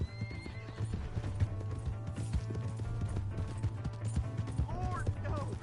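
A horse's hooves clip-clop steadily at a gallop in the Red Dead Redemption 2 video game, with a whinny and speaking voices over the hoofbeats and a continuous low hum beneath.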